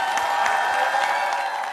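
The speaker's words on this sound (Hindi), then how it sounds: "जोरदार तालियों के साथ वेद प्रकाश का स्वागत करें" Audience applause welcoming a poet on stage at a Hindi poetry gathering, a steady dense wash of clapping with scattered cheers, continuous and fairly loud throughout.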